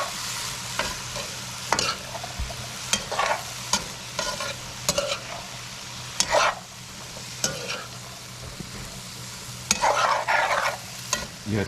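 Shrimp seasoned with salt, black pepper, garlic powder and onion powder frying in a pan, a low steady sizzle punctuated by sharp scrapes and clatters as pieces are turned.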